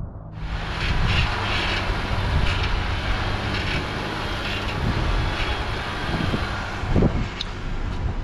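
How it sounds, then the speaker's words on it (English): A loud motorcycle or side-by-side engine drones steadily on an off-road trail near Moab, a continuous roar that swells slightly and stays close throughout. "someone's motorcycle or side-by-side is very loud."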